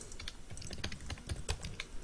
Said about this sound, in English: tippity tapping on their keyboard too loud